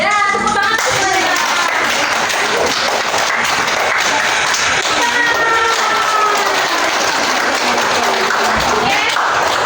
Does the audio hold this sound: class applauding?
yes